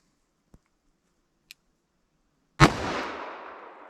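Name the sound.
357 Magnum Remington round fired from 4-inch barrel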